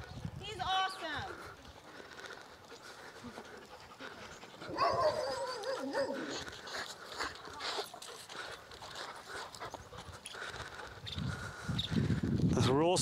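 A rescued street dog with severe leash reactivity is heard outdoors, making yelping, whining barks and panting that rise and fall across the clip, mixed with footsteps, rustling and people talking nearby.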